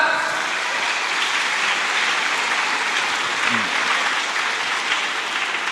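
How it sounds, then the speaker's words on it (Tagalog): Children clap together during a Filipino church sermon, a continuous, even crackle of many small hands sustained for nearly six seconds with no break. "Palakpak mga bata!"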